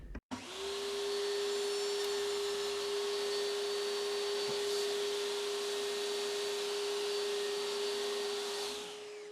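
A Dewalt table saw runs steadily and loudly for about nine seconds, its blade cutting with a constant motor whine over a broad rushing noise that stops abruptly at the end. No one speaks.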